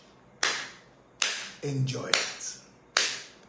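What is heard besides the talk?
hand claps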